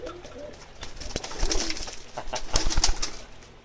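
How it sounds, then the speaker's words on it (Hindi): Pakistani pigeons coo close by in soft, throaty murmurs, mixed with light scuffing and a few quick clicks. "ये मेरे बांग के कबूतर हैं जी।"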